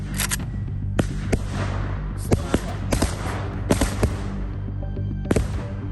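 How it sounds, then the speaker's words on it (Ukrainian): Fireworks set off to mark a death, heard as a series of sharp cracking bangs, five or six distinct bursts spaced roughly a second apart over a steady low background rumble. "Кива відзначає феєрверками смерть Степана Бандери"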